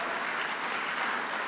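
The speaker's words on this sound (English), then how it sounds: "let's give my staff a round of applause" An audience applauds the governor's staff at a public event in a dense, steady burst of clapping lasting a moment.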